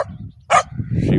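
A single sharp dog bark rings out nearby, set against a low rumble of background noise that builds toward the end.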